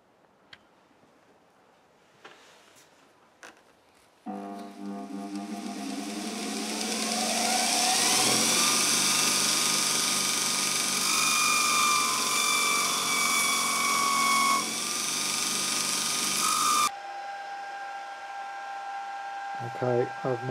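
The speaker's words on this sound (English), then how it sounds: "It needs cleaning up as per usual on the linisher to get all the dags off it." A linisher belt sander grinds the rough edges off a cast flywheel, spinning up to a loud, steady whine with shifting grinding tones as the casting is pressed to the belt, then cutting off abruptly, with quiet clunks before and after.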